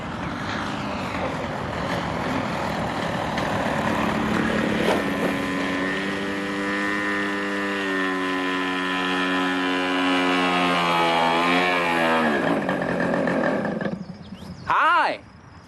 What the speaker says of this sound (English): I was flying a quarter-scale, remote-controlled model airplane